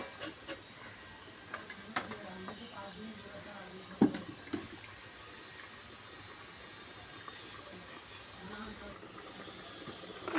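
Steady broadband hiss of a pot of boiling fish curry gravy after fish pieces go in and the pan is covered, with a few brief clatters and some background noise throughout.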